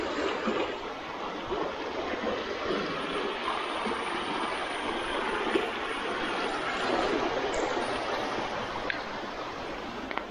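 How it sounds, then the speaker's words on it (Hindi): Water rushes loudly and steadily from opened dam valves beside a village bridge in Kerala, a constant broad roar with no talk over it. "उसका जितना भी वॉल्स था सब खोल दिया है, तो इसलिए इतना पानी जा रहा है इधर उधर से"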